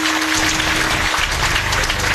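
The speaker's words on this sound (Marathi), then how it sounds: "माता भगिनी एकदा टाळ्या वाजवा बरं." Women in the audience at a Vitthal Rukmini devotional week gathering in Bardgaon clap their hands together, a dense, steady patter of many hands filling the full two seconds.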